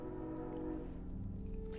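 A train passes close by, a steady loud rumble with sustained horn-like tones that swell again near the end; no one speaks.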